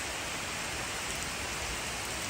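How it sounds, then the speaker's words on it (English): Pouring rain falls outdoors in a steady, dense hiss, loud and continuous with no voices. "Out here in the pouring rain,"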